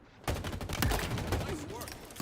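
Bursts of gunfire in Halo Infinite multiplayer crackle close and loud in quick succession over game effects, with a voice callout blended into the mix.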